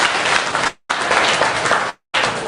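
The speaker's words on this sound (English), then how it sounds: "Y'all give him a round of applause for that" Audience applause during a comedy show, loud dense clapping heard in three bursts separated by abrupt silent gaps.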